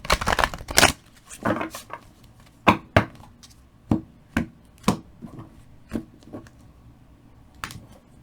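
Tarot cards shuffled by hand, well-worn cards giving a soft flurry of riffles at the start, then a series of sharp separate taps and slaps spaced about half a second to a second apart, close and fairly quiet.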